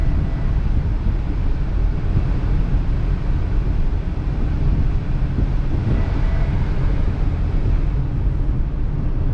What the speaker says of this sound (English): I had the AC on a little strong